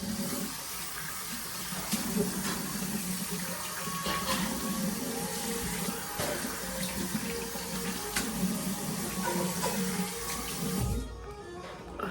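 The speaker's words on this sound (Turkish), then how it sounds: "Şimdi yüzümü yıkayacağım." Water runs steadily from a bathroom tap into a sink while someone washes their face, with splashing over a constant flow that cuts off near the end.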